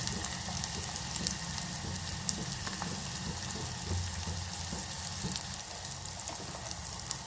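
Chopped onion fries in hot oil for a tempering in a home kitchen, with a steady, even sizzle and crackle that stays fairly quiet and close. Small pops and spatters dot it throughout.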